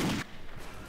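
A single gunshot from a dwarven gun in Skyrim's Aethernautics mod, a short sharp crack that drops off quickly into a faint low rumble.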